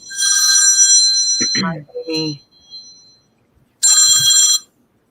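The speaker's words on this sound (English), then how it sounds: "Is that her phone ringing already?" Two bursts of a landline telephone bell ringing, loud and near, the first followed by a short stretch of talk and the second ringing alone after a pause.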